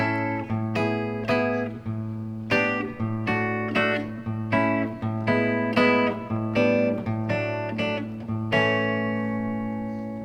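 An electric guitar plays a chord progression, each chord struck and left ringing in a steady, unhurried rhythm, clear and alone.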